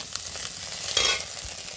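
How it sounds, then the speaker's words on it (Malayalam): Grated coconut being stirred into a hot pan with pepper powder, for a spinach and egg stir-fry: a brief, close scraping and sizzling swirl without any voices. "ചിരക്കി വെച്ച് തേങ്ങ ഇട്ട് കൊടുക്കാം നമ്മളതൊന്ന് മിക്സ് ചെയ്യാം"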